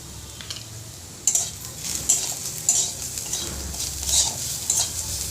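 A spatula stirs and scrapes steadily through a lightly sizzling pan after salt and turmeric go in, while cooking a red amaranth (lal shak) fry; repeated close scraping strokes with a faint frying hiss, and no talking.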